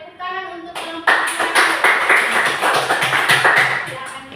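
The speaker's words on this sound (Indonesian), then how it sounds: "Tepuk tangan untuk kelompok 2." A classroom claps for presentation group 2, a brief voice first, then a small group's distinct, close hand claps in an uneven, lively patter that keeps going to the end.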